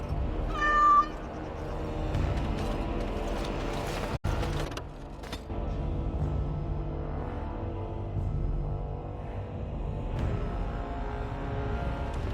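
A cat meows in the Dragon Age video game: one short, clear meow near the start, then game ambience with low background sound for the rest.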